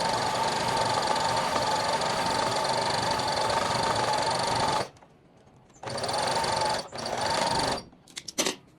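A sewing machine stitches stretched elastic into fabric in a long steady run, pauses briefly, then resumes in shorter bursts that end in a few quick stops and starts, close and loud with no talking.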